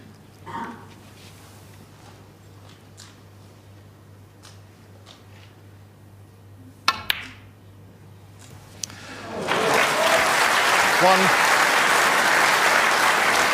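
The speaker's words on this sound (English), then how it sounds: "A round of applause from Ronnie Jr." Snooker match at the 2013 World Championship final: a quiet arena with a few crisp ball clicks, then the crowd bursts into loud, sustained applause for the last few seconds.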